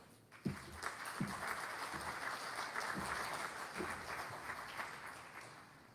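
An audience at a public policy forum breaks into applause, a dense wash of clapping rising quickly, holding steady for several seconds, then gradually thinning out. The sound is moderately distant.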